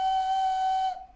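A nose flute blown through the nose gives one steady, pure whistling tone at a fixed pitch, held loud and close for about a second before cutting off into a short fade.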